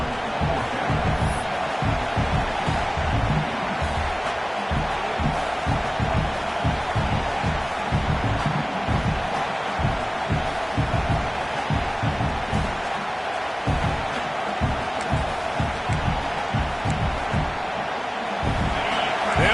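A packed stadium crowd at a Nebraska versus Ohio State college football game roars in a steady, dense wash of noise, with a commentator talking over it.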